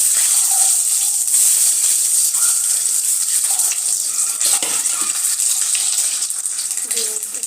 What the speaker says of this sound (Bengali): এর মধ্যে আমি প্রথমে ডিমগুলো ভেজে নেব।